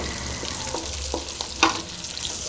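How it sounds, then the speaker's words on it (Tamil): Green chillies frying in a pan with a constant sizzling hiss, broken by a few sharp spatula scrapes and clinks, the loudest near the middle, heard close with no talking. "பச்சை மிளகாய் எல்லாத்தையும் நல்லா வந்து ஃப்ரை ஆகணும்"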